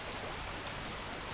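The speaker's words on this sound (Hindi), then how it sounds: "एक दिन बहुत जोर का बारिश आया।" Heavy rain pours in a cartoon, a dense, constant roaring hiss with no gaps, fairly loud and steady throughout, with no voices over it.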